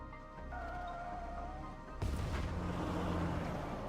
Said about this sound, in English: The sound of gunfire is hot on our heels.